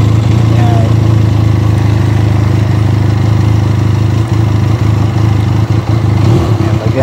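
A Benelli Leoncino 500cc motorcycle idles at close range with a loud, steady low rumble throughout, joined by some faint clatter and brief handling noises.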